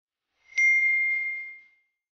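A single bright bell ding strikes once, then rings out cleanly and fades over about a second against silence, like a notification chime.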